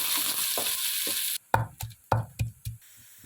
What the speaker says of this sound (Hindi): थोड़ा सा ऑयल डाल दें, हल्का सा प्याज को पका लेंगे।